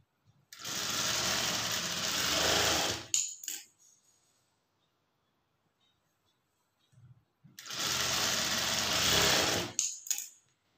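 A sewing machine stitches a blouse seam in two steady runs of a few seconds each, with a quiet pause between them. The whirring motor and needle clatter are close and even.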